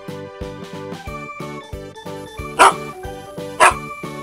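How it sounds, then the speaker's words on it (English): A dog barks in a series of sharp, evenly spaced woofs, loud and close, with two harsher, louder barks near the end and no voices. "Dog. Dog. Dog."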